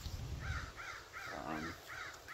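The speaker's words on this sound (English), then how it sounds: "Crows are out." Crows caw outdoors beside an old closed landfill near wheat fields, several harsh calls in a loose repeating series at moderate distance over steady wind and low rumble.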